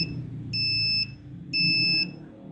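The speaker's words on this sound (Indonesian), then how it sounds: "LED kuning dan buzzer akan menyala secara barengan secara periodik dalam waktu 5 detik dengan periode 1 detik" A buzzer on a PLC-controlled parking system model sounds in two long high-pitched beeps about a second apart, clear and close over a low background hum.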